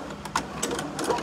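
A sewing machine runs short back stitches on a Christmas tree pouch, a brief close burst of rapid mechanical clatter with small pauses between runs.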